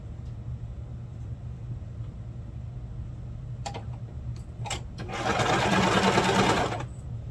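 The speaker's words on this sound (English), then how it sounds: "That's the great thing about serging, is that you can kind of chain stitch everything." A serger sewing machine chain-stitches and trims fabric for holiday pajamas. A steady low motor hum runs throughout, with a few clicks, then a louder, denser burst of rapid stitching near the end.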